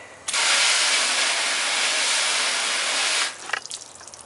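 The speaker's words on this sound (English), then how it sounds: "I grab the hose, we've got it on the shower setting." A garden hose set to its shower spray pattern rains water onto a truck near the wheel, a steady, close, loud hiss for about three seconds before cutting off, with drips and splashes trailing after.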